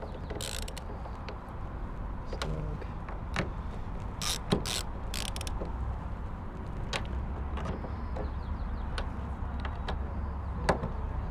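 A ratchet snugs up metal bolts holding a plastic side mirror on a second-generation Scion xB, giving quick, quiet clicking strokes scattered through a low steady background hum.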